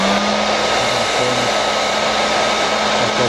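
A heat gun runs with a steady, loud whooshing blow, softening glued joints on a foam model airplane, a Nitroplanes Falcon 25 EDF jet under construction.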